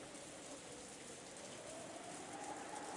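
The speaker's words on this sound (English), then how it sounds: "it was the sound of the rain, which had continued on and on since the previous night" Steady, continuous rainfall in the Umineko visual novel, an even close hiss of rain with no breaks and no voices.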